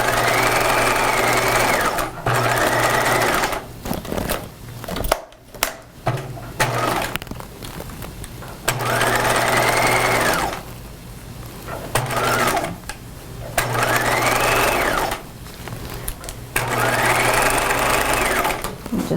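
A sewing machine stitches a sleeve seam on a cropped retro jacket in four or five close, even bursts of rapid whirring needle clatter, separated by short pauses and light handling noises, with no talking.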